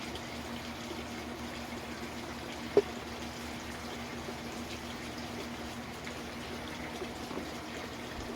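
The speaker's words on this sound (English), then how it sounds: "you water the bougainvillea." A bougainvillea plant being watered after worm castings are spread around it, a steady, faint gush of water running continuously with one brief knock partway through.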